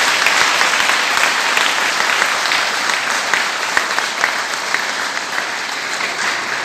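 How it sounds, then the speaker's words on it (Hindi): An audience at a public event claps loudly and steadily to welcome Army soldiers who built a Bailey bridge, with the dense applause holding strong throughout. "हम लोग जो है एक ताली बजाकर उनका स्वागत करें"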